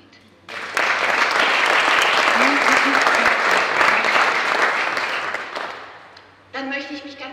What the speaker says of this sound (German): Und das hat auch einen Applaus verdient.